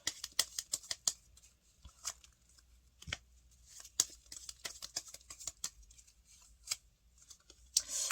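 Tarot cards are shuffled, slid and drawn close to the microphone, making a quiet run of sharp papery flicks and taps in irregular bursts, with no voice over them.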